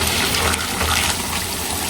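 Water pours steadily from a vessel into a kadhai of semolina being cooked, a continuous splashing, gurgling rush heard up close and fairly loud.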